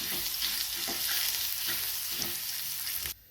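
Garlic paste frying in a pan while being spread and stirred, a close steady sizzle with soft scraping strokes, ending abruptly after about three seconds.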